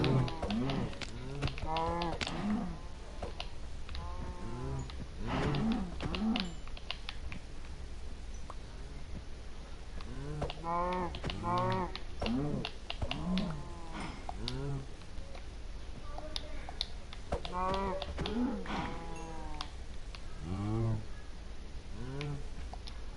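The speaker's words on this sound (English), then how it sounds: "I've never seen this many cows in one area." Many cows in a blocky survival video game moo repeatedly in overlapping, close calls throughout, with a voice talking quietly underneath at times.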